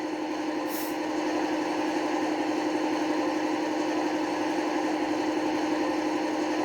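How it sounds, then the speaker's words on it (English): Model train locomotive engine sound from a Gaugemaster Prodigy Advance2 controlled sound decoder, starting up and then settling into a steady, droning diesel idle hum that holds evenly throughout, with no talking. "That's engine start."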